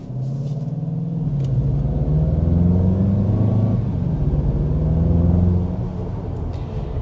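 A 2026 Mazda CX-50 engine accelerating, giving a steady, loud low rumble that swells slightly midway and holds without pause, with no talking over it.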